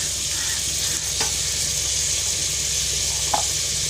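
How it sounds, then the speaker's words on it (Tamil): Tomatoes, garlic, onion and green chillies sautéing in a pan for a fish curry, a steady loud hiss of frying throughout with a couple of faint clicks, no voices. "தக்காளி எல்லாத்தையும் நான் போட்டுடுறேன் நல்லா வதங்கட்டும்"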